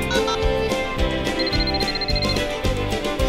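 A telephone rings with a repeating electronic tone, tangled into a loud, busy mix of rhythmic music.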